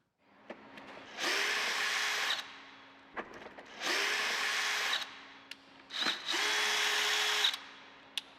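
A drill fitted with a 3/8-inch nut setter backs out fasteners from roll-up door bottom-rail hardware: three close, loud whirring bursts of about a second or so each, separated by short pauses with small clicks and knocks.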